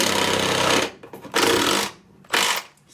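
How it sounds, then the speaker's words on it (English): A stepped drill bit rocked back and forth to chop through metal on a junkyard Datsun, three loud bursts of harsh grinding chatter separated by short pauses. "what I'm going to do with the stepper bit is I'm going to rock it, and then I'm going to be able to chop through"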